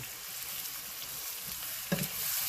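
Spinach fries in a pan, wilting down for a meal with smothered pork chops, giving a steady close sizzle with one brief stir, no talking.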